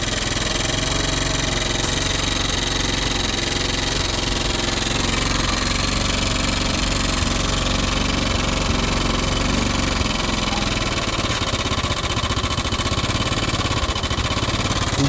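A motorcycle engine with a stock exhaust runs at a steady, loud idle up close, with a continuous mechanical drone and no break for the whole stretch.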